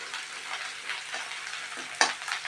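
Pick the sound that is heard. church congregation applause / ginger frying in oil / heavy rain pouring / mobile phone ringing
ginger frying in oil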